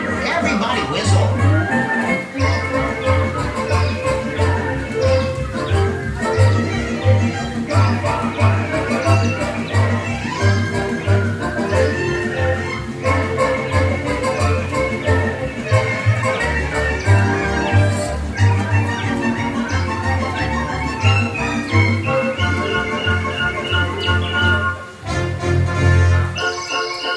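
Animatronic birds whistle in the Enchanted Tiki Room at Disneyland, bright warbling tones over a rhythmic musical backing that runs for the whole stretch with a brief dip near the end.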